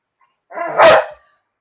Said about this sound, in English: You're gonna make all the puppies start barking again.